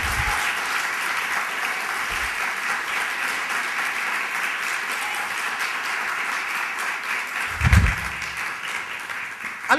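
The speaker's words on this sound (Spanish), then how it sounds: "Démosle un aplauso al Señor." A church congregation applauds during a sermon, a long steady roar of many hands clapping that holds for nearly ten seconds, with a couple of low thumps near the start and toward the end.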